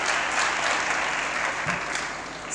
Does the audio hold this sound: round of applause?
yes